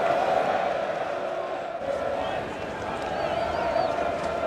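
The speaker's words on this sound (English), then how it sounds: "he's received a huge ovation from this crowd" Large cricket crowd at Adelaide roaring and applauding as batsman Greg Blewett walks out to the crease, a sustained, loud wash of cheering and clapping that holds steady throughout with only a slight dip midway.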